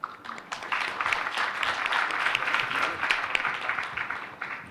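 An audience at a forum talk concert in Busan applauds the panel, a fairly close, steady patter of clapping that builds quickly after a soft start and holds evenly before tapering.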